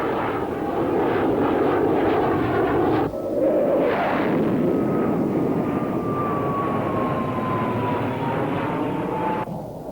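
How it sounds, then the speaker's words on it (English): F-15 fighter jets peeling off for an interception, a loud roaring jet engine rush with a sharp cut partway, then a renewed surge and a thin descending whine as the aircraft passes. "F-15s peel off for an interception"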